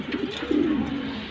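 A pair of military pigeons gives one soft, throaty coo that rolls and wavers for about a second, heard close and alone.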